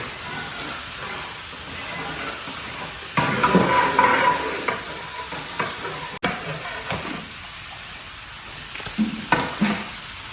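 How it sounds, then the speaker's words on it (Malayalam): Yogurt and lemon juice are stirred into a huge pot of 50 kg chicken dum biryani, making wet, irregular scraping and sloshing bursts that swell loudly, then fade and return. "അതുകൂടി ഒഴിച്ച് നല്ല ഇളക്കുക"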